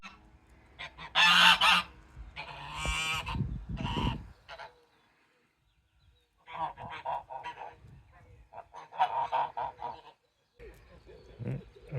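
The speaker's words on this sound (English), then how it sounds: "trying to zoom in on the goose" A goose honks outdoors in several loud, nasal bursts, grouped in clusters with short quiet gaps between calls, heard fairly close with no talking.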